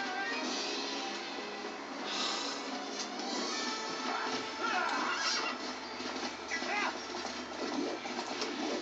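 A horse whinnies and neighs in the video game Twilight Princess amid busy game music and effects, with clip-clopping hooves and a voice talking underneath.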